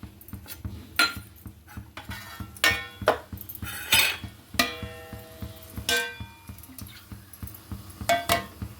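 Several metallic clanks and clinks of a lid knocking onto a cooking pot, close and sharp, spaced irregularly with no talking.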